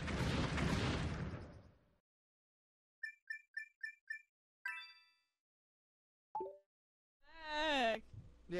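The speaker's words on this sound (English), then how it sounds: "And now the ship's exploding." A ship blows up in New Super Mario Bros. U: after a stretch of game noise, a string of bright chimes and dings leads to a few sharp bursts and a final swelling blast, crisp and close.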